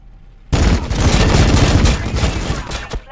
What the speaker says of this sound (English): Yeah, he's just going to shoot.